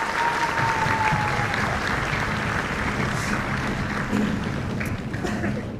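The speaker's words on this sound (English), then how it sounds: "So a round of applause for those high school Tri-M students." A large middle school band concert audience claps steadily and loudly, a dense continuous wash of applause that holds for several seconds before easing slightly.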